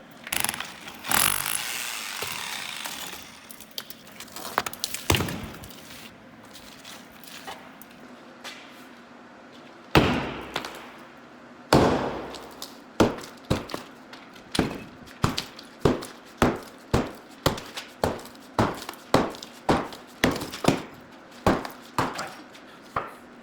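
A hammer drives a chisel into brick, giving a long run of sharp, close strikes. Early on they come irregularly, then settle into a steady, fast rhythm of regular blows with gritty scraping between them, with no voices.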